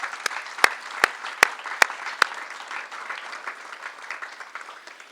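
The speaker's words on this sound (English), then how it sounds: "Let's give them a round of applause." A Veterans Day ceremony audience applauds the setup team, several sharp, loud claps standing out at first, then a steady spread of mid-distance clapping from the crowd that carries on evenly.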